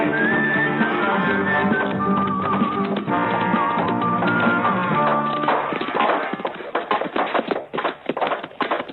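Horses ridden up in a French-dubbed western: hooves clatter and shuffle while a horse whinnies, loud and continuous over a music score, with the hoofbeats growing busier toward the end.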